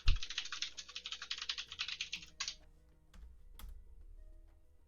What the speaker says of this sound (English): I heard you typing like a monster.